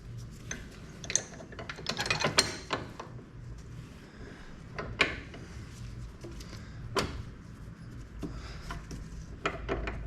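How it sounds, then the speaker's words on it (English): Metal parts of a John Deere 425 54-inch mower deck lift arm clank, click and ratchet as the arm is refitted, a series of irregular close mechanical knocks and scrapes with quiet pauses. "Now I'll temporarily put the lift arm back on."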